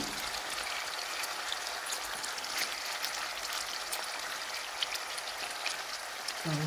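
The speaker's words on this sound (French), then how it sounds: "vous faites revenir dans l'huile" Beef pieces frying in oil for a beef choudou give off a steady, fine crackling sizzle, dense and even throughout at moderate level with no talking.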